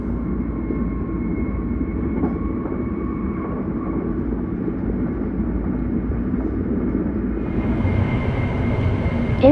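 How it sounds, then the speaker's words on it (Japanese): A Hokuriku limited express train runs through snow in Niigata, a steady low rumble of wheels and motors heard from inside, continuous and even throughout. "列車は遅れを取り戻すべく、雪の中を走行していきます"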